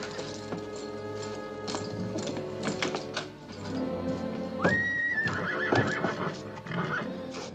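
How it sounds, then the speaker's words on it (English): A horse neighs loudly in a long whinny amid steady clip-clop of hooves as a rider approaches in an old Western setting, with other horse snorts and jingling around it and no speech. "Rider's coming. Better put the horses in the barn."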